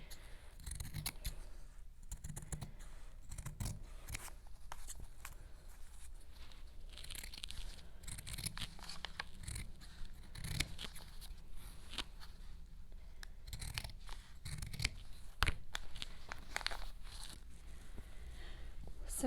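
Scissors snip through layers of felt for a gingerbread house ornament template, giving a close, quiet sequence of soft, irregular cuts with rustling fabric between strokes.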